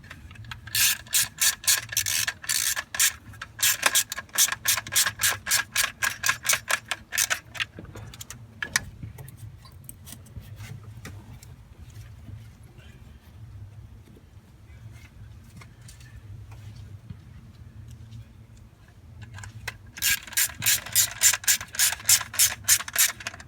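Hand ratchet clicking in quick rhythmic bursts while screws are driven back into a 307 cubic inch Cutlass Supreme engine, loud and close, with a quiet pause of low background hum between the two runs of clicks.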